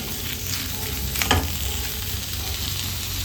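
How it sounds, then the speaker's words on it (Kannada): Onions fry in a pan for an egg chilli dish, making a constant close sizzle with a brief spoon scrape partway through. "ರೀತಿಯಲ್ಲಿ ಈರುಳ್ಳಿ ಫ್ರೈ ಆಗುವಾಗ ರುಚಿಗೆ ತಕ್ಕಷ್ಟು ಉಪ್ಪು ಸೇರಿಸ್ಕೊಳ್ಳೋಣ"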